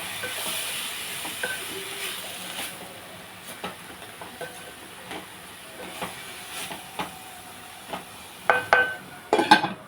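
Oil hisses and crackles in a pan as spices temper, with tomato pieces added, sharp popping spits growing more frequent toward the end.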